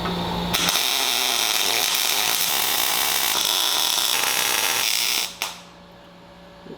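Welding a plasma-cut steel plate onto a buggy frame produces a loud, steady crackling hiss up close for about five seconds before cutting off abruptly.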